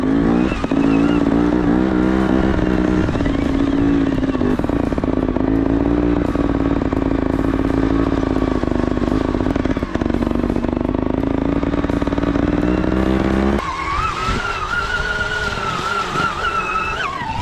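A Beta combustion-engine trials motorcycle ridden on a slippery hill, its engine droning steadily close by with shifting revs and a change in pitch near the end; no one speaks.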